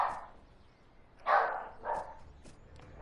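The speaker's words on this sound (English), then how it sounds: "if you hear my dogs bark" Pet dogs bark a few times indoors at medium distance, sharp isolated woofs spaced irregularly over a quiet background.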